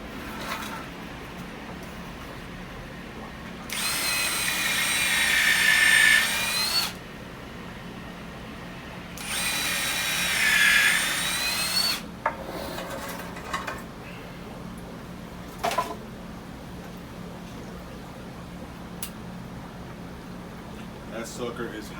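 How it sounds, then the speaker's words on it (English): A power drill with a bit boring into lumber, two sustained whining bursts of several seconds each, separated by a pause, followed by scattered knocks and handling sounds. "even with the drill bit, it's hard to get through this lumber"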